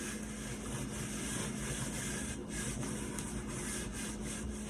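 Scrubbing of a worn kitchen cabinet door, a steady broadband rubbing and wiping noise, close and continuous with brief pauses, no voices.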